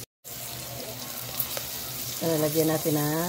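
Onion and garlic sauté in a pan for a crab dish, giving a steady close sizzle throughout; a voice talks over the frying in the second half.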